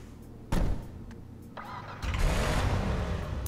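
An HVY Nightshark armored vehicle in GTA 5 cranks and fires up with a loud starter burst, settling into an idle before growling louder with a deep, throaty rev, all up close and without talk.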